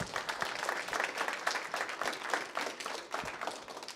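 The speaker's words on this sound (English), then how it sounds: "Give them a round of applause." An audience applauds two Eagle Scouts at a Cub Scout pack Blue & Gold ceremony, steady dense clapping from a crowd filling the whole stretch at moderate volume.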